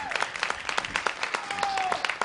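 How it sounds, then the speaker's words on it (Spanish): Studio audience clapping on a Spanish-language TV talk show, a brisk run of distinct hand claps with a sustained tone and some talk running beneath. "La verdad que sí merece un aplauso"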